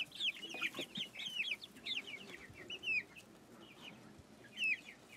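A young Lavender split rooster in a grow-out pen gives a string of clear, rising clucks and chirps, close and fairly loud, in irregular bursts with brief pauses between.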